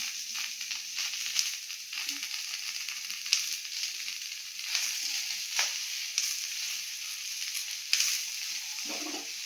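Broken chillies spitting and sizzling in oil in a pan while cooking a hyacinth bean chutney, with a soft continuous hiss and scattered sharp crackles and pops, close and quiet, no one speaking.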